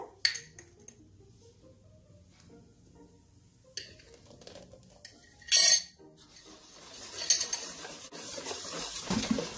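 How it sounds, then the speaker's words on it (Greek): A utensil stirring baking soda into juice in a container while making Greek olive oil cookies, scattered clinks and scrapes, then a sharp metallic clatter and quicker rattling stirring at the end. "τη σόδα, μέσα στο χυμό, ανακατεύουμε"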